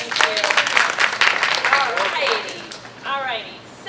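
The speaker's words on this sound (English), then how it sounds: "A big round of applause for him." A seminar audience gives a loud, dense burst of applause and cheering for a videographer, with voices calling out over the clapping before it thins out near the end.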